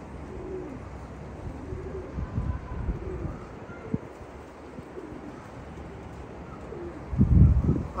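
Pigeons on a rooftop loft cooing softly at close range amid steady outdoor background noise, with a louder low burst of flapping or cooing near the end.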